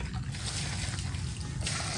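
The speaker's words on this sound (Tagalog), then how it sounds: "Lagyan lang natin siya ng tubig" Water trickles steadily into a container at close range in a home kitchen, a continuous soft pouring stream with no talking over it.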